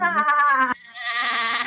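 A singer imitates a sheep's bleat during a children's farm sing-along, giving one loud, wavering, drawn-out 'baa' followed by a breathier second bleat.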